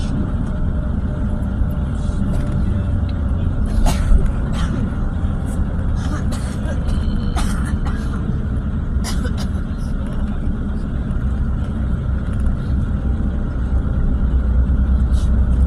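Bus driving along the road toward Taif in Saudi Arabia, a steady low engine and road rumble throughout with occasional clicks and rattles inside the cabin, no clear talk.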